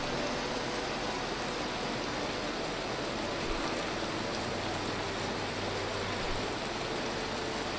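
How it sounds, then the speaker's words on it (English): Steady rainstorm in the survival game Vintage Story, a dense, even hiss of rainfall that holds at a constant level throughout with no pauses, no voices and nothing else breaking through the wash. "Quite the rainstorm."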